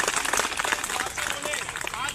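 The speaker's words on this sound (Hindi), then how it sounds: "जोरदार ताली बजाएं" A crowd of Delhi Civil Defence volunteers protesting at an Aam Aadmi Party office breaks into loud, dense clapping, with voices and shouts mixed into the applause.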